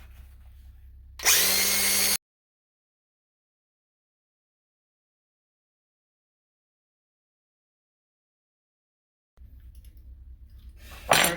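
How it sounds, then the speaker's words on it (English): An angle grinder cuts a water heater pipe in a short, loud, harsh burst of about a second, followed by a long stretch of silence and then faint background handling noise. "So I'm going to cut this with a grinder."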